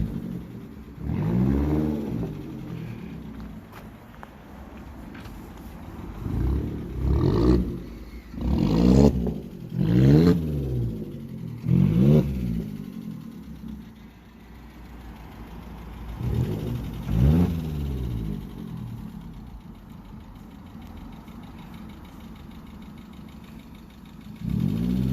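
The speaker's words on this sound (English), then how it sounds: "That is a muffler and resonator delete on the Astra." Vauxhall Astra H 1.4 SXi with its rear muffler and resonator removed, revving hard in repeated loud bursts over a rumbling idle, with quieter idling stretches between blips.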